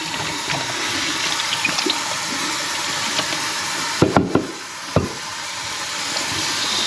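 Water running and splashing through a developing tank as freshly developed film is washed, a steady broadband wash with a few brief louder knocks and splashes near the end.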